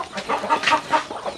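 Native chickens clucking close up, a run of short, rhythmic clucks and soft cackles repeating every fraction of a second, fairly loud with no talking.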